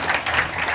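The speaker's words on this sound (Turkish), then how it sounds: "Alkışlayalım." Studio audience applause on a Turkish late-night talk show, a short dense burst of clapping filling the room for under a second.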